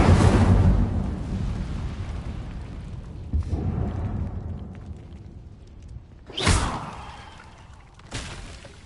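An Incendio fire spell is cast in Hogwarts Legacy, with a roaring burst of flame at the start that fades away, followed by softer rumbles and two sharp whooshing bursts near the end.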